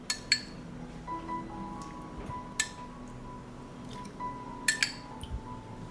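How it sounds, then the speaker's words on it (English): A spoon clinks against glass jars while salt and vinegar go in, a handful of sharp, close metallic taps spread unevenly over a quiet background, with no talking. "I add a teaspoon of salt to each jar."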